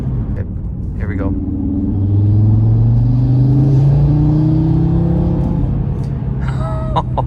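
A 2018 Audi RS3 engine drones and swells as the car accelerates on a freezing day, a rising steady roar close inside the cabin with brief clicks and a short voice.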